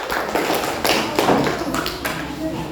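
Students in an Indonesian-language classroom clap for group 3, a dense patter of hand claps and taps that fills the room with steady, close-up applause under light background voices.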